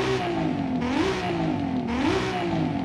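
A Nissan Silvia S15 Spec-R with a swapped 2.6-liter twin-turbo engine revs in Forza Horizon 5, its engine note climbing and dropping in two repeated rev cycles, loud and continuous with no talk over it.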